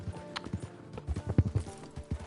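Horse hooves clip-clop in Red Dead Redemption 2, a run of close, fairly loud uneven hoofbeats with a low thud on each step, set over a faint game background with no talk.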